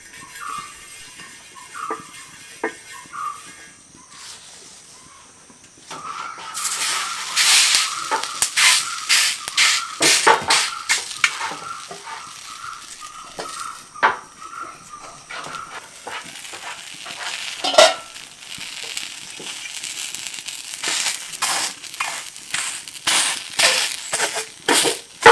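Ragi finger millet rotis cook on a hot pan, a steady sizzle with a rising spread of crackles and pops from about a third of the way in, close and continuous with no talk.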